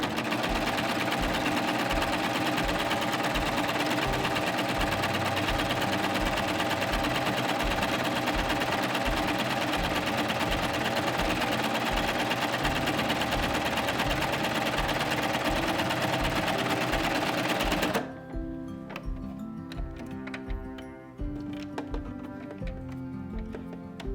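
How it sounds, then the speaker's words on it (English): A coverhem machine hums loudly and steadily as it sews along a folded fabric hem, like the hem on a shirt. Its needles chatter rhythmically, then the stitching stops abruptly and light handling noises follow. "I can simply put that under my foot and begin sewing that Coverhem."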